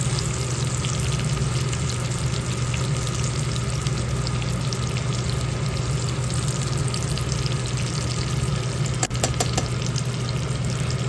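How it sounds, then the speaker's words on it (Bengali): Whole cinnamon, cardamom and cloves sizzle steadily in hot oil in a wok, a close, even frying hiss that runs throughout with one brief knock near the end. "এরপর কড়াই সেম তেলে একটু দারচিনি দিয়ে দিলাম, কিছু এলাচ, লবঙ্গ দিয়ে ভালো করে ভেজে নিলাম।"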